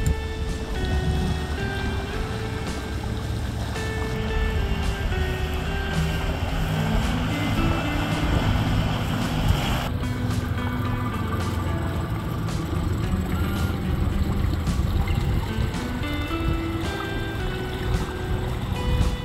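A brand-new outboard motor drives a small boat at low revs during break-in, a steady droning hum with a faint tonal whine running continuously for nearly twenty seconds, with water wash beneath and no talk.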